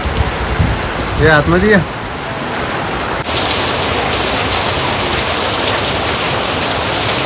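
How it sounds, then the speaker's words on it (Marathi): Heavy rain pours down steadily outside a Mumbai chawl home, a dense hiss that grows louder partway through, with a voice calling out briefly near the start. "इकडे ना जोरात पावसाची सुरुवात झाली बघा"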